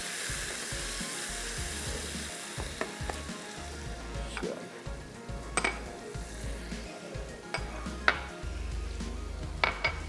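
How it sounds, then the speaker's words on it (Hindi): Masala spices fry in a pan with a soft continuous sizzle, broken by scattered clinks and scrapes of a spoon stirring against the metal, no talking. "चलें, 1 से 2 मिनट तक मसाले को कर लें फ्राई।"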